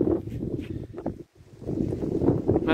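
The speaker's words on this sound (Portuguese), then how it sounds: "tem bastante vento aqui nessa época, venta demais" Strong wind buffets the microphone outdoors in a dry region where native forage plants for sheep and goats grow, roaring in rough gusts with a brief lull partway through.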